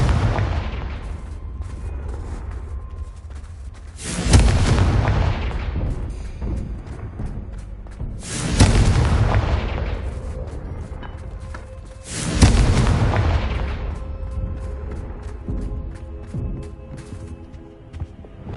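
Confringo blasting spells explode in a wizarding video game, three heavy booming blasts at roughly four-second intervals, each with a loud rumbling tail that fades over a steady low background.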